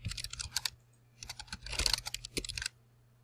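Computer keyboard keys tapped quickly while entering a file name, crisp close clicks in uneven bursts separated by short pauses, with no voices.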